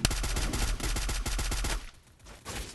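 Rapid automatic gunfire in a battle royale video game, a fast close burst of sharp shots followed by a brief lull and a few more distant cracks.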